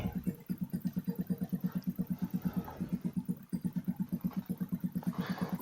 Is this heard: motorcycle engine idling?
yes